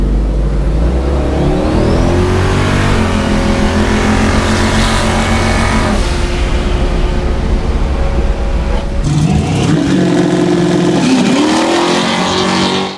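A 1974 Chevrolet Nova with a twin-turbo 5.3 engine at a Power Cruise event. It roars loudly and continuously, revving and accelerating up and down the whole time, with no talk over it.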